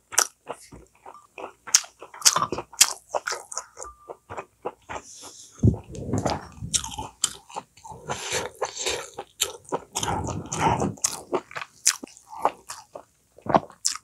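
Close, wet chewing and crunchy bites at a Korean countryside home meal of pumpkin-leaf wraps, thick soybean paste, braised dried pollock with radish greens, lettuce namul and young cabbage water kimchi, with steady mouth sounds throughout and no talk.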